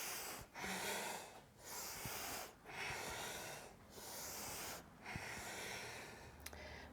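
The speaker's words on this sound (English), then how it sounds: "Inhale and exhale." Slow, deep breathing during a gentle yoga practice, with several long inhales and exhales in an even rhythm and short pauses between them, close and fairly quiet.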